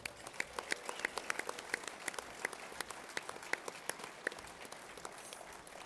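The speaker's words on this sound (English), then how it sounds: "How about a huge round of applause" Audience applause at a Minnesota Twins Winter Caravan baseball fan event: a modest, fairly sparse crowd claps with distinct individual hand claps ringing out, moderately near and steady throughout, with no talking.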